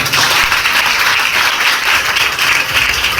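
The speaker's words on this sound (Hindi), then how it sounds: "जोरदार तालियां।" Loud, steady applause from a crowd, dense clapping filling the whole stretch without pause or voices.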